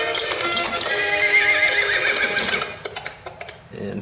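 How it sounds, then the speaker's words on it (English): An electronic horse whinny and a run of clip-clop hoof sounds play loudly from a toy Little People Princess Klip Klop playset, followed by a few softer ticks. "it plays music and it makes a horse sound."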